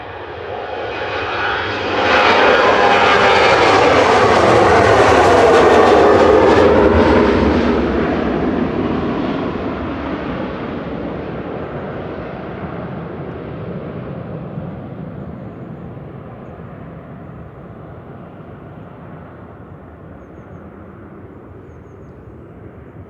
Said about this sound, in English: Royal Air Maroc there, departing back to Casablanca with flight 819 737-800 CN RGW